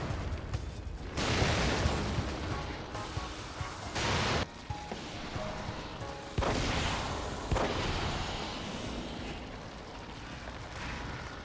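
Grenade explosions in the survival horror video game The Evil Within, played on its hardest difficulty: several heavy, rumbling booms in succession with bursts of debris and gunfire-like cracks over a dense, noisy game soundscape.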